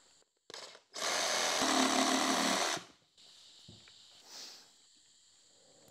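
Knob being cut off at an angle from the trunk of a humpback bougainvillea bonsai: a loud buzzing cutting burst lasting about two seconds, followed by quieter, intermittent scraping and rustling.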